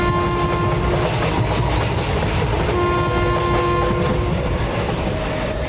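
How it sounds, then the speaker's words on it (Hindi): A train rolls in toward a station with loud continuous rumbling and steady wheel squeal, sustained metallic tones running throughout, dense and close with no talk. "तभी अजीत को दूर से एक ट्रेन आती दिखाई देती है।"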